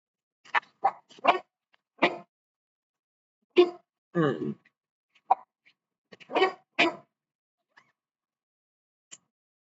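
A dog barking in short separate bursts, about a dozen scattered barks and a growly yowl at close range in an otherwise quiet room, no talking.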